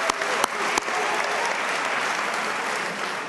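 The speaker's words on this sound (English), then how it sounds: "I want you to cheer for them." Commencement audience at a University of Minnesota CFANS undergraduate ceremony breaks into sustained, loud applause and cheering from a large crowd, with a few sharp claps standing out at the start.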